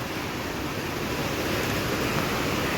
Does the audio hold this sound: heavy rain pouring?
yes